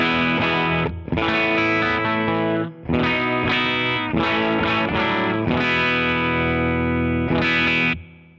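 Distorted electric guitar chords ring out through an effects pedal, loud and sustained, with short pauses between strummed phrases.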